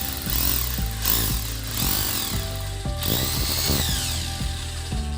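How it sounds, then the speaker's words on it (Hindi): An Ingco rotary hammer in breaking mode, with the bit hammering but not rotating, gives a loud, continuous, rapid mechanical pounding with a whining motor tone that shifts in pitch as pressure changes, close and alone. "तो यहाँ पे ये बिट घूमेगी नहीं, इंस्टेड ऑफ राउंडिंग ये केवल ब्रेक करेगा।"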